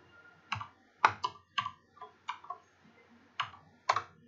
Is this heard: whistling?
no